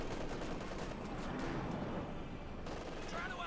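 Machine gun fire in the Company of Heroes 2 strategy game, a dense continuous rattle of automatic gunfire blended with battle noise throughout, with no clear speech over it.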